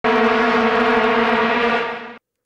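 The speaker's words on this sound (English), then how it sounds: "The vuvuzela is a horn-like instrument that was an international craze during the 2010 World Cup" A single vuvuzela, the plastic stadium horn made famous at the 2010 World Cup, blows one loud, steady buzzing note for about two seconds and then cuts off abruptly.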